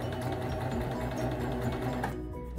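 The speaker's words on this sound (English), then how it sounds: "I like using my serger because it's super quick." A serger sewing machine stitching a seam on doll bell bottoms, a fast steady mechanical whir running loud and close before stopping near the end.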